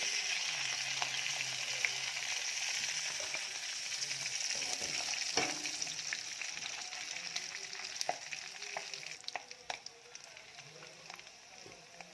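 Prawns fry in a pan with a steady, fairly loud hiss and scattered sharp pops and crackles, growing more spattery and uneven toward the end.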